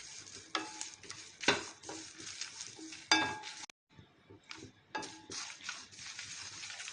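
Drumstick leaves fry and are stirred in a pan, with bursts of sizzling, scraping spatula strokes and light metal clinks, close by, broken by a brief pause.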